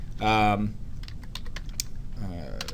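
Quick, light clicks of typing on a computer keyboard, close by, come in a short run between stretches of someone speaking.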